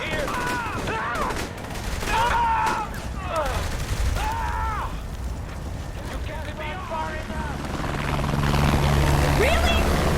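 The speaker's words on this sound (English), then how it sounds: "Really? A fucking attack chopper?" An attack helicopter in the Saints Row The Third video game roars steadily with rotor noise under bursts of gunfire and shouted voices, loud and continuous, swelling toward the end.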